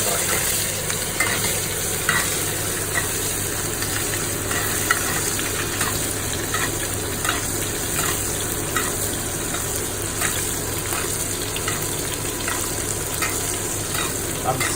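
A wagyu rib eye is basted in butter with rosemary, sage and garlic in a pan, giving a loud, dense, continuous sizzle with faint spattering crackles, steady and close with no talk.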